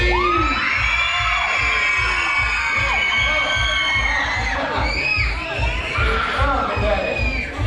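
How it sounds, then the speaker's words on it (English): At a Christmas holiday show in a theme park, a crowd of kids in the audience screams and shrieks loudly and continuously, many high voices overlapping with cheering. "Kids, let me hear you scream."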